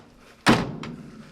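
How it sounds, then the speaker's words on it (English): A solid car door on an old American Hudson in a barn slams shut once, loud and close, followed by a brief fainter knock. "nice slam doors"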